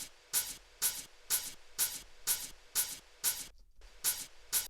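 A dirty hi-hat drum sample layered with noise for tech house, looping as crisp, hissy ticks at a steady even rhythm over a faint noisy bed, nine or so hits with one brief gap, no voices.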